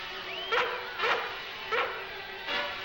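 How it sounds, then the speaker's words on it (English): A dog barks four times in short, sharp yips spaced about half a second apart, fairly close, against a quiet background. "What are you barking at, you crazy mutt?"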